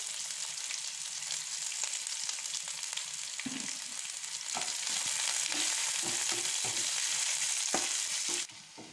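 Onions and curry leaves frying in a pan with fried chana dal and urad dal, a bright, steady sizzle with soft scraping knocks as they are stirred, close and alone.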